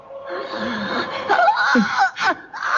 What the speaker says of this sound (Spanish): Es como un lamento, un grito plañidero.